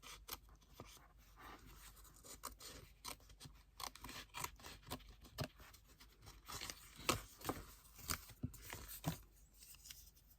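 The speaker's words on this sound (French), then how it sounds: "Bon, je vais découper" Scissors snip scrapbooking paper in a long run of quick close cuts, crisp little clicks and rasps repeating at an uneven pace with brief pauses, fairly quiet and with no talking.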